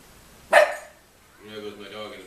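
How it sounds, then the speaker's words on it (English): A dog barks once sharply in the background, a short loud burst, followed by someone speaking. "there goes my dog in the background"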